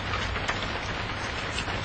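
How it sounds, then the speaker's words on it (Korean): Steady heavy rain patters hard on a tin roof, a dense unbroken hiss with no voices. "빗소리가 깡통 건물 지붕을 두들긴다."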